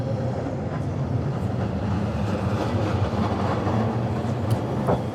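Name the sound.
red tram passing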